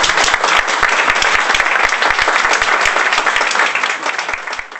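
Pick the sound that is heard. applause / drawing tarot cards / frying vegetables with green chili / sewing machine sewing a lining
applause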